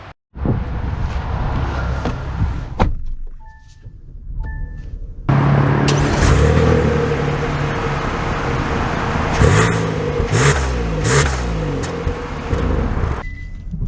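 A 2023 Kia Telluride X-Pro SUV drives along, its engine and road noise forming a steady, fairly loud rumble that rises after a brief quieter stretch near the start. A few short tones and knocks sound early on.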